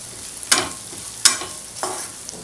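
A spoon stirs a potato masala gravy in a pan, giving three distinct scraping strokes spaced about a second apart over a soft background sizzle, close and fairly loud.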